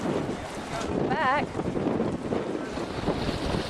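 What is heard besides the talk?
strong wind from Tropical Storm Lee at a dock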